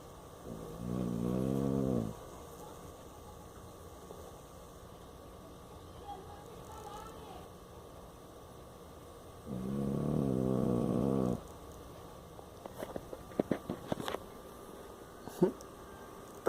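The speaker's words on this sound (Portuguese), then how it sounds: "Tá roncando." Two long, loud snores rumble out several seconds apart, with quieter breathing between them and a few sharp small clicks and knocks near the end.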